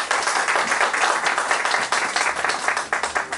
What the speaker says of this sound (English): Please give Frank a round of applause